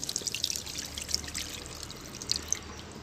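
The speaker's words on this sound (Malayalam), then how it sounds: "അപ്പോൾ നമ്മൾ വെള്ളം 2 ബൗൾ ഒഴിക്കണം." Water pours into a pot for cooking soaked wheat, a continuous close trickle with bright splashy droplets and small surges, alone without talk.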